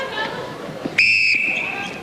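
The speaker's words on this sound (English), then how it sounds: "Whistle, thanks." A referee's whistle at a 1996 national super league netball match sounds one loud, sharp blast of about a third of a second, followed by a shrill tone that lingers over crowd noise.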